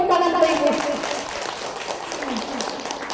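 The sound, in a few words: applause for the mother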